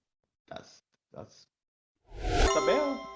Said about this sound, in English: That's a bell.